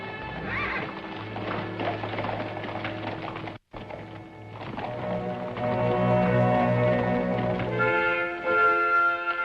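Several horses ridden along a trail in a Western scene, their hooves clip-clopping steadily with snorts and a whinny under a swelling music score, no speech.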